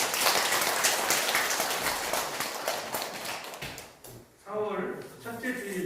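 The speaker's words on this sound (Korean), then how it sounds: "서로 박수로 환영합니다." A church congregation at a Palm Sunday service claps in welcome, dense, steady applause from many hands filling the room, fading out and then giving way to a voice speaking.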